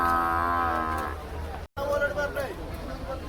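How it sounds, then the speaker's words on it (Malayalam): Large bulls at a busy cattle market, with a close, drawn-out moo opening the clip and a second lowing call after a brief break, set against crowd chatter. "ഇത് വേറെ 2 വലിയ കാളകളുണ്ട്."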